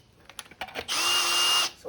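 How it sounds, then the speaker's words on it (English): A power drill whirs in a steady high-pitched burst for about a second, close by, after some light clicking and handling noises. "So here's the drill."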